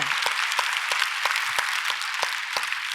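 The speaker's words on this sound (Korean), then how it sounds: "하나님 앞에 박수로 영광을 돌립니다" Church congregation applauding in rhythmic unison, a steady wash of clapping with strong accented beats about every third of a second, continuing throughout.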